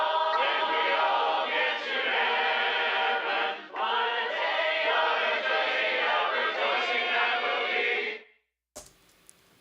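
A Church of Christ congregation singing the hymn "When We All Get to Heaven" as a sampled, full-bodied choral passage with a brief dip midway, ending abruptly before a short stretch of sparse, faint sound.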